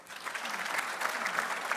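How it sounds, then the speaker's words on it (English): Audience applause for a cultural group's performance at a Namibia-Botswana bi-national commission event in a hall, a steady, moderately loud burst of clapping lasting throughout. "let us give them another resounding applause."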